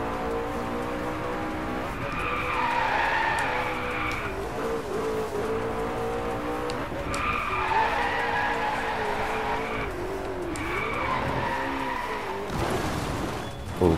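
Car drifting through corners in the DriveClub racing game, engine revving in steady rising and falling sweeps with tires squealing and skidding through long slides, loud and continuous for the whole stretch.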